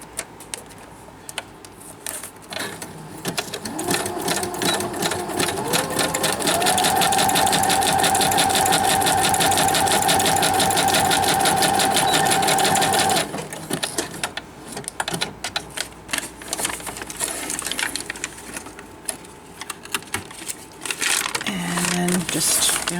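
A sewing machine stitches folded paper onto a pocket, a loud, rapid, steady mechanical whir lasting several seconds, then stopping, followed by handling noises.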